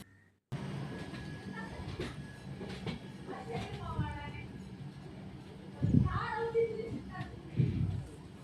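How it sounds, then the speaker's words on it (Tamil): Rockfort Express passenger train rolling along at speed, a steady rumble of wheels and carriages with occasional squeals and clatter, heard from inside the coach, with a person talking over it. "நல்ல ஸ்பீடு எடுக்குது நண்பீஸ் நம்ம ராக்ஃபோர்ட் எக்ஸ்பிரஸ்ஸு"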